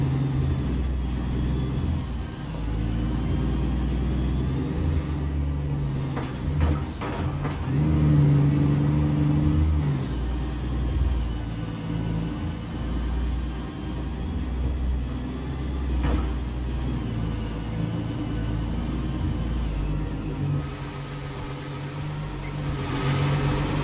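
A heavy truck in a trucking simulator crosses a potholed ice road in Transbaikalia, its engine droning steadily and loudly with a few sharp knocks and thumps as the wheels hit holes.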